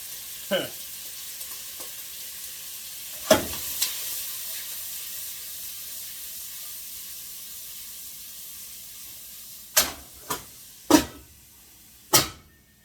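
Oil sizzles in a pot while Cajun red beans and rice cook, a steady broad hiss with a few sharp spits and crackles popping out near the start and in a quick cluster toward the end.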